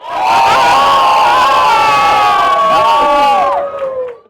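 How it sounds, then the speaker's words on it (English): An excited crowd of early-morning train fans cheers and whoops loudly at a Sydney Metro station, a sustained roar of raised voices that swells and then fades out near the end. "the crowd of excited early morning Metro fans is getting bigger and bigger"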